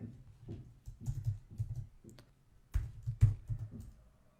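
Someone types code on a computer keyboard, a close run of quick key clicks in short bursts with brief pauses between them and a sharper tap near the end.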